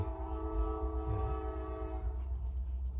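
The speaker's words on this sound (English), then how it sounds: "A train is going by." A passing train sounds a long, sustained horn blast at a distance, ending about two-thirds through and giving way to low rumbling rail noise.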